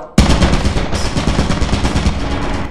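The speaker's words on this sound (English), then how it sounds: "There's turrets fucking everywhere!" Turrets in the video game Lethal Company open fire with a sudden loud burst of rapid automatic gunfire that rattles on continuously for over two seconds, close and dense, with no voices.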